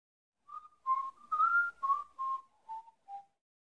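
A person whistles a short, wavering tune of several clear notes, ending with two brief softer tones, with silence before and after.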